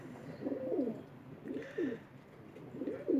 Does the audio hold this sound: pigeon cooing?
yes